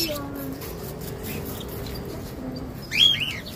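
Small birds chirp and tweet close by, with one brighter call standing out near the end over a low background hum.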